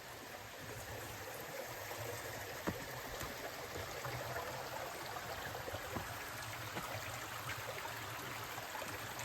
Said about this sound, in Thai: เหมือนมีฝนตก วันก่อนนะทุกคนทำให้มีน้ำไหลผ่านตรงนี้